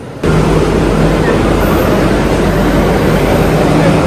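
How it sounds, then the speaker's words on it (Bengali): A Delhi Metro train pulling into a station on the line toward Noida Electronic City, a loud, steady rumble and roar that starts abruptly and fills the platform without pause. "এই হচ্ছে আমাদের ট্রেন চলে এলো নয়দা ইলেকট্রনিক সিটি"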